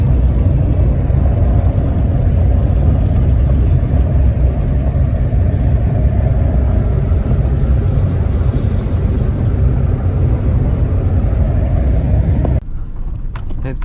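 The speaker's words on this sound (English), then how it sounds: "We're just hauling some bales here, just pulling into the yard." A truck hauling hay bales rumbles loudly and steadily as it pulls into a ranch yard, its low engine drone filling the scene before cutting off abruptly near the end.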